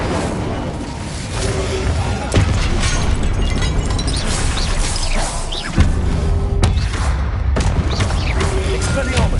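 Fiery spell blasts from a wizard in Hogwarts Legacy, a dense, roaring burst of booms and crackling pops that runs loud and continuous, with sharp thumps near the 2.5 and 6 second marks.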